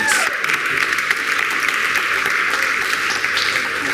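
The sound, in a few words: audience clapping hands in praise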